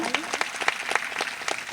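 Audience applause honoring the parents at a Sinha family Ekta Manas Ramayan gathering in Rajnandgaon, a scattered run of claps with no voices over it.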